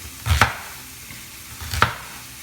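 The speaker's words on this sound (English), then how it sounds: "I'm gonna go ahead and chop up the onion right now." An onion being sliced with a knife on a cutting board, two distinct close chops spaced about a second apart in a quiet kitchen.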